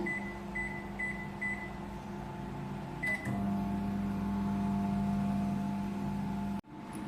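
A microwave oven baking nankhatai cookies hums steadily, with a few short beeps early on, a click, then a louder drone that cuts off near the end.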